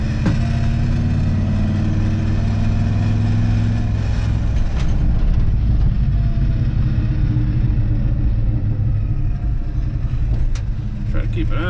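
A 1975 Ford F-250 High Boy truck with a 390 engine idles with a loud, low, steady rumble, heard close up from start to finish, while a person talks over it.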